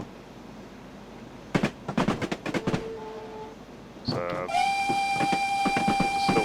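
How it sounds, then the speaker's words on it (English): A train warning whistle sounds in Train Simulator 2017 on the Settle to Carlisle line. Clattering mechanical knocks come first, then a sustained loud tonal whistle blast holds steadily to the end. "warning whistle to anyone on the platform"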